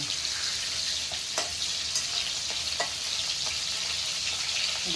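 Shrimp frying lightly in oil in a pan, a steady close sizzle with occasional soft clicks and stirring scrapes, continuous and without talking.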